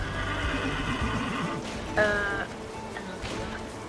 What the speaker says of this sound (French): Ah, cheval qui se promène.